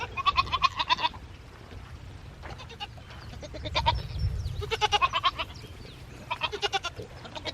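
Goats on a small farm in spring bleat from a pasture pen, several loud, wavering calls coming in rhythmic bursts with short quiet gaps between them and a low rumble underneath.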